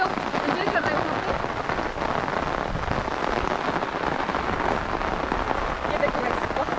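Monsoon rain falls on a village in Manipur as a dense, continuous hiss of drops that stays steady and loud throughout, with possible faint voices underneath.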